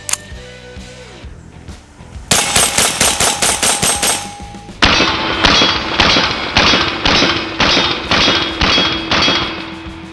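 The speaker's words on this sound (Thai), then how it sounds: "จะยิงแบบฮิปนะครับ ยิงไปที่เพจเลยก็มาลองดูกันครับ" A SIG SAUER 522 .22LR rifle with a folded stock is fired from the hip outdoors, delivering two rapid strings of sharp, loud shots in an even rhythm with brief pauses between bursts.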